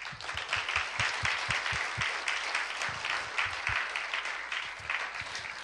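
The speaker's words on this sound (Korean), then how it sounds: "우리 모두를 위해서 박수하십시다." A church congregation claps together during a Friday worship service, steady applause filling the room for several seconds with a few low thumps and faint voices underneath.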